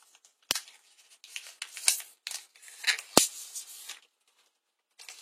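An HTC One smartphone is unboxed, with close, quiet crinkles, scrapes and crisp taps of cardboard and plastic packaging in irregular bursts, and a short pause before a final faint rustle.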